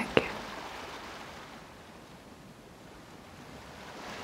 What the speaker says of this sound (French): Prenez maintenant conscience du bruit des vagues